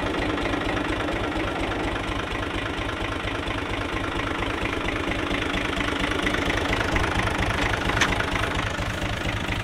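A tractor engine idles steadily close by, with a rough, knocking diesel pulse and constant vibration, no voices over it.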